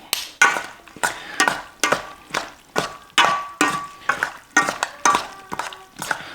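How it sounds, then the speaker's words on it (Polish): A spoon stirs a lightly salted cucumber salad from the bottom of the bowl, giving about fourteen evenly spaced wet scraping and clinking strokes, close and fairly loud, with no talking. "No i mieszamy od dna porządnie"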